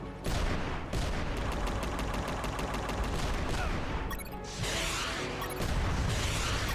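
Gunfire and grenade blasts in the action game UnMetal: a steady, rapid string of shots rattles on for several seconds, broken near the end by a couple of heavier crashing bursts, all fairly quiet and without speech.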